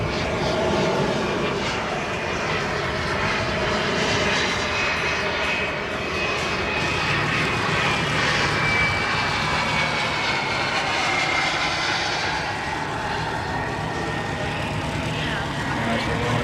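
Large model Avro Vulcan jet flying at an outdoor airshow, its engines giving a steady, sustained roar that holds strong and even throughout, with a commentator's voice over the noise.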